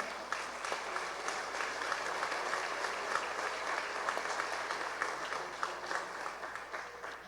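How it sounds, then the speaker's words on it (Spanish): Congregation in a church service applauding together: a continuous, dense wash of many hands clapping, sustained and even over several seconds with a faint hum beneath. "Den un aplauso al Señor"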